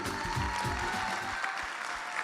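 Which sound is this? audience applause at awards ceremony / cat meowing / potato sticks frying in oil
audience applause at awards ceremony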